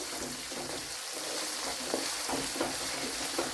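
Gooseberry pickle mixture fries in hot oil, giving a steady close sizzle with a few soft scrapes of stirring across the short stretch, no voices.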